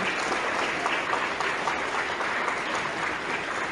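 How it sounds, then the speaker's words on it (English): A school assembly audience of young students claps for the fourth graders who organized the event, dense continuous applause holding steady for the whole stretch. "let's give them a round of applause"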